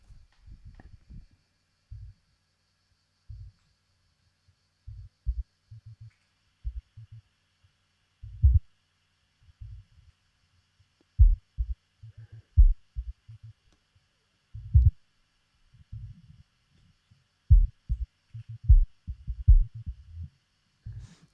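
Soloed low band of a beat mix in Ableton Live: deep, thumping kick and bass hits in a steady rhythmic pattern, loud and isolated with near silence between the hits, no voices.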